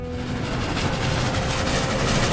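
A Brio wooden toy train runs along its track with a steady, continuous rolling clatter, close and fairly loud throughout, with no voices.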